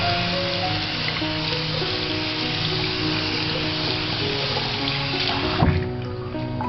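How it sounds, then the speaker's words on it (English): A table tennis paddle sponge is rinsed under a running kitchen tap, a steady rushing spray of water for several seconds with a brief knock near the end. "run your sponge under the tap"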